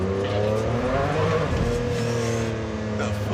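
A 620-horsepower car sliding loose on the road, engine roaring and revving hard with shifting pitch, close and loud, tyres scrabbling beneath the engine note.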